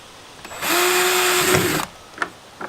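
A power drill drives a screw into a 2017 Hobie Outback kayak hull while a fish finder is fitted, one loud steady whir of about a second, then brief clicks and handling noises.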